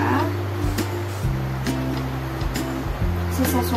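An Astron Mirage 10-inch floor fan running, a steady close whooshing hum with low droning tones that shift level a few times, under a voice talking.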